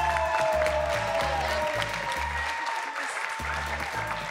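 A studio audience on a Turkish television game show applauds steadily for a contestant, the clapping sustained and dense throughout over a pulsing, beat-like backing.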